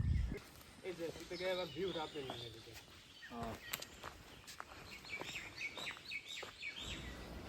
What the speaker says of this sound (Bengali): এখানে অনেক পাখি ডাক শোনা যাচ্ছে